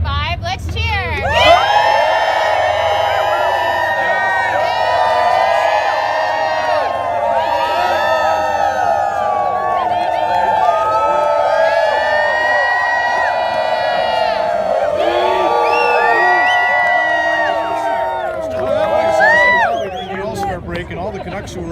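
A crowd cheers and whoops loudly at a hockey event, a dense, sustained roar with rising shouts and excited voices throughout, swelling again near the end.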